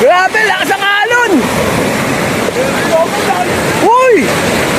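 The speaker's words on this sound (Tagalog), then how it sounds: "Grabe, lakas ang alon!" Loud, steady rushing surf from strong ocean waves at a beach in Tangalan, Aklan fills the whole clip, with excited voices shouting over the roar of the waves.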